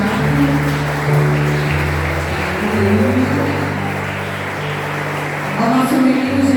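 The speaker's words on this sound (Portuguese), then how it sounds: "pode aplaudir também o pessoal do teatro" An audience applauds a church theatre group at a Christmas cantata, with steady clapping over a low humming, tonal background and a few scattered voices.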